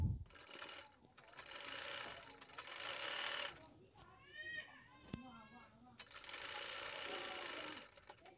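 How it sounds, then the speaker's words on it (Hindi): A sewing machine runs in bursts while stitching the hip seam of a pair of trousers, fast rattling stitching alternating with brief pauses, close and fairly loud, with a voice talking in between. "और यहाँ पर एक सिलाई लगा लेना है"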